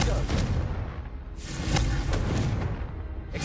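Confringo blasting spells firing in Hogwarts Legacy, a few booming, thudding explosions in quick succession with crackling bursts, loud and close, with voices talking over them.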